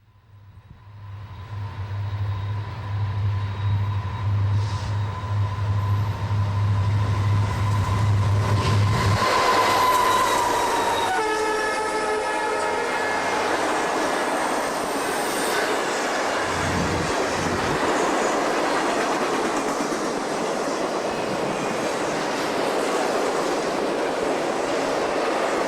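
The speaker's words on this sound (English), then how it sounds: "Westbound BUTO is next, passing the Oak Harbor Depot at 10:27 a.m." Westbound Conrail BUTO manifest freight train passing the Oak Harbor Depot, a loud sustained rumble of locomotive and rolling cars with a brief horn-like tone and steady clickety-clack of wheels over the rails.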